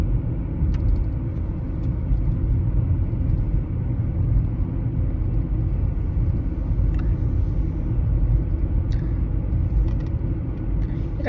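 Steady low road rumble fills a moving car's interior, a constant loud drone with no breaks, heard alone without talk.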